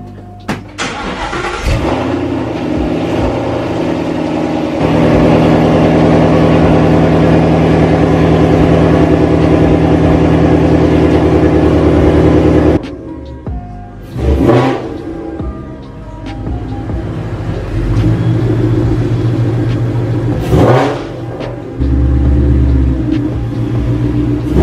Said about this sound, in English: I had to go with the Corsa Extreme catback exhaust with the quad tips.